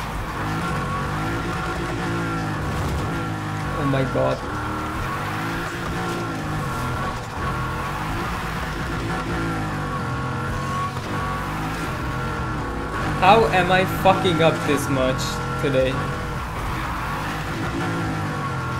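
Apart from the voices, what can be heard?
1992 Honda NSX Type R engine while driving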